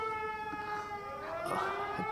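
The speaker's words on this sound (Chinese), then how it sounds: "您老还是躲吧，这警报都响了" A wailing alarm siren sounds steadily and fairly loud, its rising and falling tone droning continuously in the background of a dramatic Republic-era period scene.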